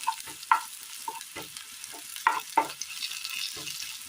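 Onions frying for a curry, stirred around a pan with a spoon, giving soft sizzling under a series of sharp scraping and clinking strokes, close and unhurried, with no voices.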